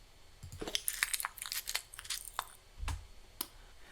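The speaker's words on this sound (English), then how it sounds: "I might just take the end of this crunching, sort of right here, and then a little bit of the tail when it's starting to nibble but fade away" A crunching and nibbling sound effect for a music class project: crisp, close bites and crackly chewing crunches in irregular bursts, with a dull low thump near the end, no talking.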